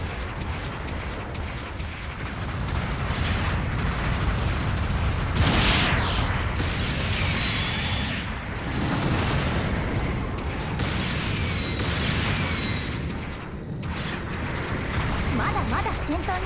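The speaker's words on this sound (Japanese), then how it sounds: "砲撃が来るよ。" Artillery fire raining in during a video game battle, a dense run of heavy booms and blasts rolling one after another for the whole stretch, loud and continuous, with voices talking over the bombardment.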